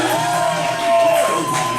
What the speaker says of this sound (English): Just listen to the crowd. They love Barbie Boi